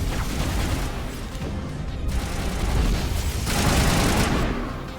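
Assault rifle fire in a Mass Effect firefight against stalkers, heard as a steady, loud, dense barrage of shots with booming impacts and mechanical clatter, no talking.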